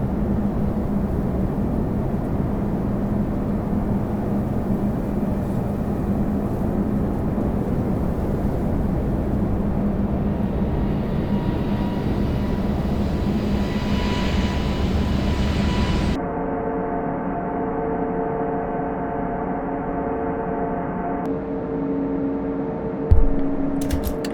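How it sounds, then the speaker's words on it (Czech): An airliner takes off on a runway in a flight simulator multiplayer session, a steady roar of engine noise that rises and then shifts to a lighter hum with tonal whines, with no voices. "letadlo už se nám tady odlepilo od země"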